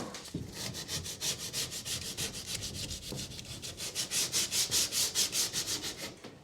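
Steady back-and-forth hand sanding on a cut wall sheet for a 1975 Viscount Ambassador vintage caravan, with close, rhythmic, even rasping strokes that continue without pause.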